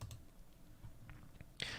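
Mouse clicks unpin an object in Revit 2020 software, giving a couple of soft, brief clicks over faint room noise.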